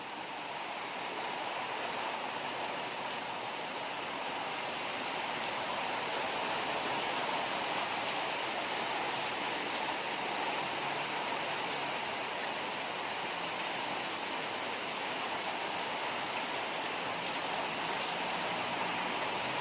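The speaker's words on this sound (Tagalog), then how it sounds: "Malakas ang ulan dito sa Marinduque." Heavy rain pours steadily in Marinduque, Philippines, a dense, even hiss of water that continues without pause.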